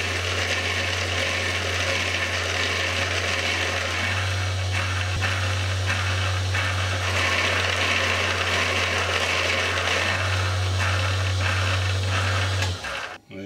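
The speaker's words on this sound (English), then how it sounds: "just to remove the burr, we will run that on the back as well" A homemade sharpening machine's spinning wheel hones the back of a blade held flat against it, giving a steady, loud motor hum with a continuous grinding hiss throughout, stopping abruptly near the end.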